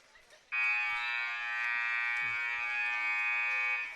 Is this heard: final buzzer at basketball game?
yes